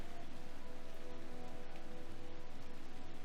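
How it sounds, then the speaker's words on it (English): Steady rain in the video game Dragon Age: Inquisition patters on a surface, a constant soft hiss with no other sounds. "It's still raining."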